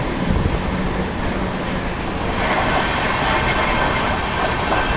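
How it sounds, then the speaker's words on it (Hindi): The Shatabdi Express, a New Delhi–Amritsar AC chair car train, runs at about 130 km/h, giving a continuous loud roar and rumble of wheels on track with no break. "तो ये है भाई शताब्दी एक्सप्रेस का तांडव, फ्लैट 130।"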